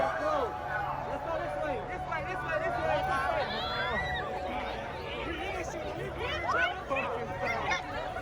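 A large crowd of fans swarms through a narrow alley, a dense steady hubbub of overlapping chatter, shouts and laughter, close and continuous with no single voice standing out.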